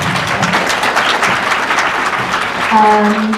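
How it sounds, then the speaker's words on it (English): Brief, loud applause from an audience for a speaker at a talk event, dense clapping with a murmur of crowd voices rising near the end. "let's do give him another round of applause"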